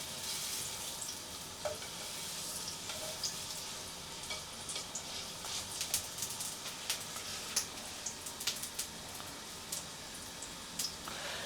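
Grouper bones sizzle with ginger in a pan of oil, a soft, continuous frying hiss dotted with small pops and spatters, fairly quiet and close.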